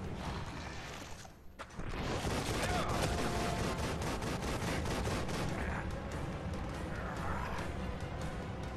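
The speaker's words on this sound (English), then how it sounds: "Grenade." In the horror video game The Evil Within, a grenade goes off with a sudden loud blast after a short lull, followed by a dense, sustained crackle of gunfire-like bursts and debris.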